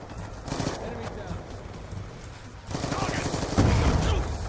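Rapid automatic gunfire from the Black Ops 2 shooter on PC rattles in bursts, fading briefly then returning louder, with a player's voice heard over the shooting.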